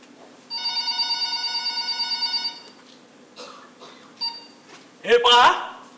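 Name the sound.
telephone ringing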